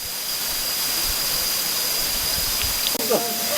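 A waterfall at the top of a trail roars as a steady, broad hiss of falling water, constant and close, with a brief voice and a small knock near the end.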